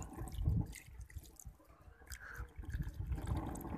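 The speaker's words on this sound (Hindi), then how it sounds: "मछली के अंदर हम पानी डालेंगे" Water is poured into a pan of fish curry, giving an uneven splashing and gurgling that comes in bursts, close and fairly quiet, with no one talking.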